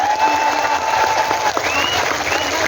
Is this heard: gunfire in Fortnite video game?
no